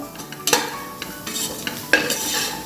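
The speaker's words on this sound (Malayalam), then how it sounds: "ഇനി പൊടികളുടെ പച്ചമണം മാറുന്ന വരെ ഒന്ന് ഇളക്കി കൊടുക്കുക കുക്കറിന് നല്ല ചൂടുണ്ട്" A spoon stirs spice powders around a hot pressure cooker while making veg biryani, with steady scraping and clinks of metal over a soft sizzle. The sound is close and clear, with no voices.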